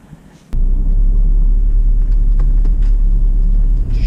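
A car lurches over rough, bumpy ground through vegetable plots by the Dnieper, a heavy low rumble starting abruptly and rattling on loudly and steadily.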